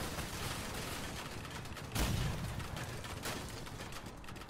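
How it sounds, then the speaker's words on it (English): Rocket and cannon fire from a tank build in the vehicle combat game Crossout, a dense rumbling barrage with a sharp blast near the two-second mark, continuous and fairly quiet. "Some good hits with the rockets there."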